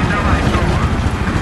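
An aircraft roars steadily through a Battlefield 3 beta match, a loud, dense engine rumble with wind-like noise that holds without a break.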